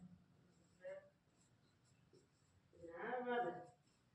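Chalk or marker writing on a classroom board during a physics lesson: two brief scratchy strokes, a short one and then a longer, louder one, over a quiet room.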